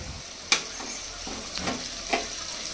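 Chicken pakodi frying a second time in hot oil, with a soft continuous sizzle broken by a few sharp stirring clinks and scrapes, close by.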